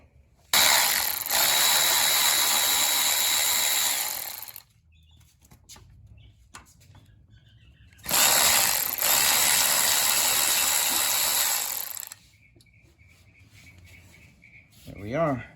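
A ratchet wrench clicks in two long, loud, fast bursts of about four seconds each while a carburetor is being unbolted from an engine to free a stuck float, with quiet handling noises in the pauses between.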